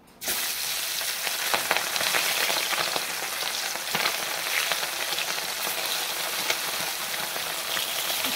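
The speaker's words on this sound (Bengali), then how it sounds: "আমাদের কড়াইও গরম হয়ে গেছে। এখন আমি দিয়ে দেব মাছ।" Small fish seasoned with salt, turmeric and chili powder hit a hot wok and sizzle loudly and steadily, a dense crackling fry that starts abruptly and holds without a break.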